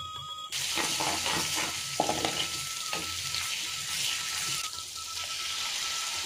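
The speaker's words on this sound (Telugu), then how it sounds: "అల్లం వెల్లుల్లి పేస్ట్ పచ్చివాసన పోయే వరకు వేపుకోవాలి" Ginger garlic paste frying in a pan with turmeric and chilli powder gives a steady broadband sizzle that carries through the whole clip. Faint scraping stirs come and go over it, and no one speaks.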